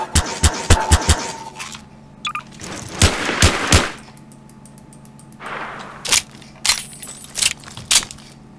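Gunfire in Garry's Mod fires in bursts of loud, sharp, close shots, with quieter stretches of game noise and metallic clatter in between.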